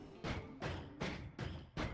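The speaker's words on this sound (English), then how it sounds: "I guess it does have a very small amount of explosion." Small explosions dig through rock in the Noita video game, five soft, muffled thuds in a steady quick rhythm, each fading into a brief rumble.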